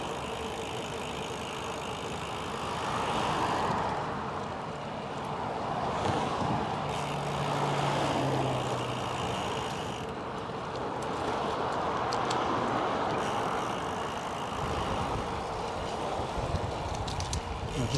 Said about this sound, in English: That's the freeway right on the edge of it